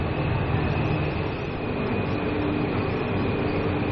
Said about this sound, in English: Pretty scenic way of taking the subway, huh?